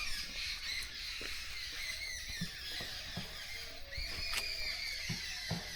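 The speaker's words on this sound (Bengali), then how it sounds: "এখান থেকেই পাখির আওয়াজ বুঝতে পারছো কতটা পরিবেশ ভালো" Birds squawk and call repeatedly at the entrance of a wildlife sanctuary forest, bright chirps and crow-like caws scattered across the stretch over a steady bed of outdoor ambience, with no talk.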